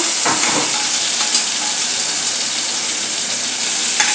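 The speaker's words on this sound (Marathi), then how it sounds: "वाटण चांगले परतून घेऊया" Ground green spice paste sautés in a hot pan for a green moong gravy, giving a loud, steady sizzle and hiss with a few brief stirring scrapes, close up and without talk.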